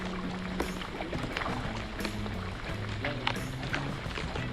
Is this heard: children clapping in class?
no